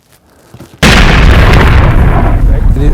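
A single loud rifle shot fired at a bull during a hunt in Africa, a sharp close blast at about 0.8 seconds followed by a long rumbling roll-off, with quiet murmured talk just before it.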